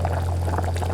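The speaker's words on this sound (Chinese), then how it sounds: "然后加开水没过羊肉" Boiling water pours into a pot to cover pieces of lamb, a steady, close splashing gush under a low constant hum.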